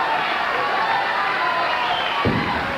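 Steady crowd cheering in a bowling center during a 1986 professional bowling tournament match, a broad wash of voices with a brief thump near the end.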